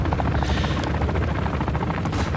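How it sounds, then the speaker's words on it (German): A helicopter in Call of Duty Modern Warfare 2 thunders loud and close with steady, rapid rotor chopping that fills the whole moment without letup. "Der Hubschrauber ist voll laut."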